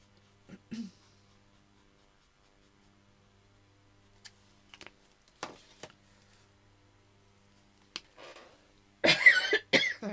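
Several short, sharp coughs from a nearby person colouring with Ohuhu markers, scattered across a mostly quiet stretch and ending in a louder, harsher burst.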